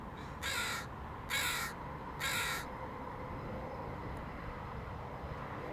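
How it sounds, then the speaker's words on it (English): Three loud crow caws in quick succession, evenly spaced over about two seconds, then fading to a steady low outdoor rumble with no further calls. "I guess the crows are hecklers."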